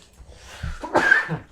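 A single sharp sneeze bursts out, close and fairly loud, preceded by a short intake of breath and trailing off quickly.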